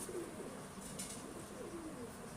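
A large breeder pigeon coos in low, throaty rolling calls, a few phrases repeated close by against a quiet background with no speech.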